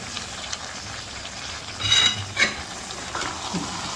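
Vegetables for a Bhogi mixed-vegetable dish being stirred and fried in a pan with masala and sesame seeds, a soft continuous sizzle with a couple of louder scraping stirs near the middle.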